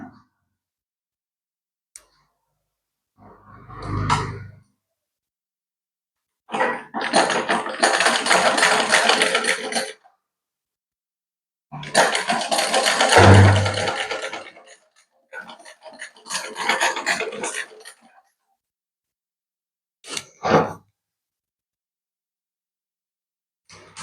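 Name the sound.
sewing machine stitching elastic on a nightie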